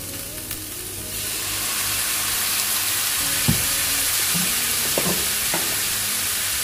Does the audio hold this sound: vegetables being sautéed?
yes